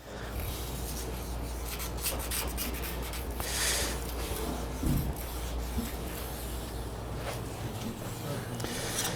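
A file is drawn along a ski's base edge to remove a hanging burr, making a steady soft rasping scrape with repeated strokes, close and fairly quiet.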